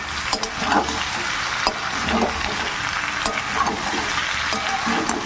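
Mixed vegetables such as brinjal, potato, pointed gourd and pumpkin fry in a pan with onion, chilli and garlic, giving a steady close sizzle broken by regular scraping stirs.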